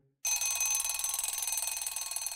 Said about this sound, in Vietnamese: Đột nhiên có tiếng chuông đồng hồ báo thức, khiến cho tôi giật cả mình.